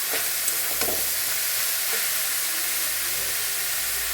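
Pea greens fry in a pan with turmeric and salt, giving a steady close sizzling hiss broken by a few scraping stirs near the start, with no talking.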